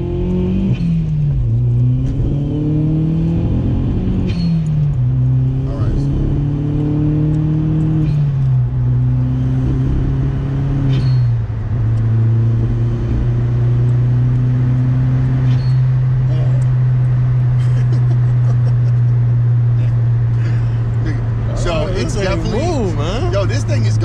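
A tuned VW MK4 1.8T on snow tires accelerating, the engine drone climbing and holding steady from inside the cabin while people talk over it.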